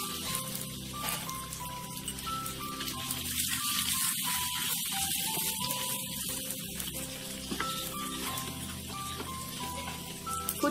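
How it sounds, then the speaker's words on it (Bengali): Fuchka puris fry in hot oil with a continuous bubbling sizzle that stays steady throughout, beneath background music. "এই একই প্রসেসে বাকি আমি ফুচকাগুলো ভেজে নেব।"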